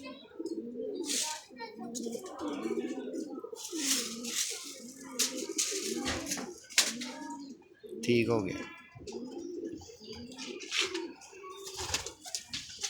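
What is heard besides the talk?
pigeons cooing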